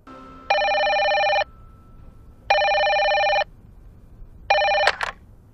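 A telephone bell rings in three clear bursts of about a second each, evenly spaced and fairly loud, with a brief clatter at the end as the receiver is picked up.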